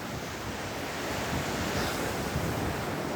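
Steady ocean surf washing in at a beach during Typhoon Maysak, a continuous broadband roar with wind buffeting the microphone, no voices.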